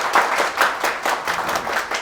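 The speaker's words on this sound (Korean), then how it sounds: "이럴 때 박수 한번 쳐주셔야 돼요." Lecture audience at a tax seminar claps together in a short burst, a dense crackle of many hands rising and falling in quick swells, close and fairly loud with no voices over it.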